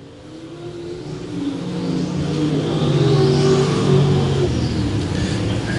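Stock cars roar through turns 3 and 4 at I-35 Speedway during a feature race, a steady layered engine drone that swells louder midway and holds, with no talk.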